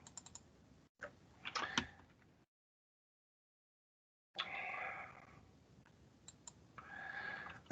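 Computer mouse clicks and keyboard typing in short scattered bursts, a couple of quick clicks early on, then longer runs of close, crisp keystrokes separated by silence.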